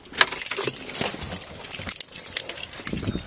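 Car keys for a 1993 Chevrolet Corvette C4 with an LT1 350 engine jangle close by in a hand, giving bright metallic clinks and rattles in uneven bursts that continue through the whole stretch.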